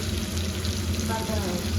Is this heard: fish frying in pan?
yes